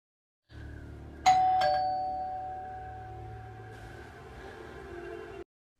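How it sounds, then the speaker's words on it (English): A doorbell chimes once with a bright ding-dong tone, its ring lingering and slowly fading over a low steady hum, with no talking. "All of a sudden, the doorbell rings."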